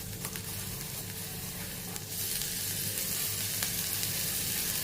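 Cumin seeds and grated ginger frying in a quarter teaspoon of oil in a kadai give a soft, continuous sizzle with faint stirring clicks, growing slightly louder partway through.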